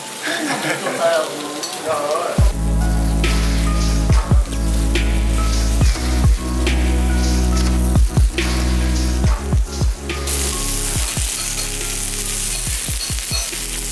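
Kimchi and pork crackle and sizzle on a traditional Korean barbecue grill in Incheon, South Korea, a dense, continuous frying hiss close up, with a steady hum and scattered clicks of stirring running underneath.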